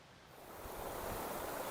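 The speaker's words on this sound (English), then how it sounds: "All right, so here's the brook." A mountain brook beside a hiking trail on Mt Kinsman in New Hampshire gives a steady rushing, broadband water sound that swells slightly over a short stretch, with no talking.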